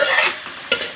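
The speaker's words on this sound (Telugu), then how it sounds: "ఆనియన్స్ ఇప్పుడు చిన్నగా పెట్టి ఆనియన్ పేస్ట్ వేసి మంచిగా కొంచెం ఫ్రై కావాలి." Onion paste fries in a pan, a brief close sizzle with a sharp stirring scrape near the end, no voices.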